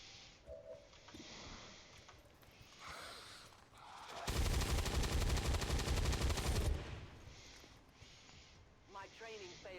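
Weapons fire in a burst of rapid gunshots in XCOM 2, a loud dense roughly two-second volley in the middle amid quieter game sounds, with people talking before and after.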